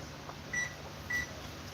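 A kitchen oven beeps twice as its temperature is turned up, two short, thin tones about half a second apart over a low steady hum.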